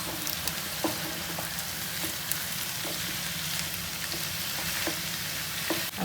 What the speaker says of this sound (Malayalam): ഫ്രൈ ചെയ്ത് വെച്ചിരിക്കുന്ന ചിക്കനും കൂടെ ചേർത്ത് കൊടുക്കാം അതുപോലെ ഒന്ന് മിക്സ് ചെയ്തെടുക്കാം